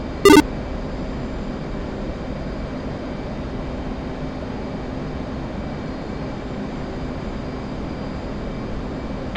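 An F/A-18C jet's engines roar at full afterburner during a climb-out in DCS, a steady broadband rumble that holds constant and close throughout, opening with a brief sharp click.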